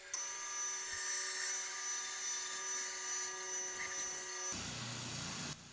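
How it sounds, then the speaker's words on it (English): A bandsaw cuts dark wood with a steady, high-pitched, ringing whine that holds for several seconds and then shifts abruptly near the end. "On this shot at the bandsaw, you can really see how those white lines stand out on this darker wood."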